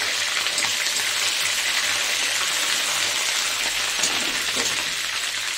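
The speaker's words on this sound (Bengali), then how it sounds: "কারি পাতাটা ফোড়ন দিয়ে দিই।" Curry leaves sizzle in hot oil as they are tempered for a curry leaf chicken, giving a loud, steady hiss and crackle that runs unbroken through the whole stretch, with no voices.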